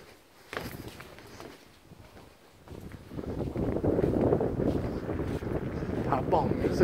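Cool wind gusts across a limestone mountain viewpoint on the Thai–Lao border at Pha Bong, rushing and buffeting the microphone, growing noticeably stronger and steadier after a quieter start.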